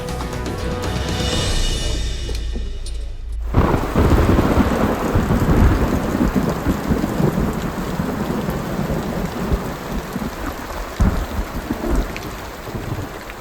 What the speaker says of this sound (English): All of a sudden the water is pouring through the cave.